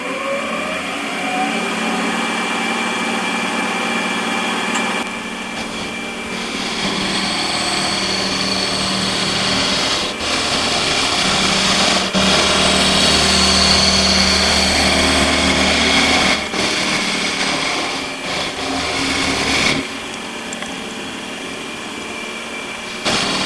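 A compact power hacksaw cuts across the surface of a vice bolster, making a loud, steady mechanical drone with a constant whine. The sound runs without a break and has a few brief shifts in level, with no voices.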